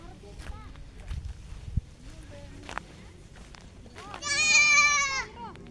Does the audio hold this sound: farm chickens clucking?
no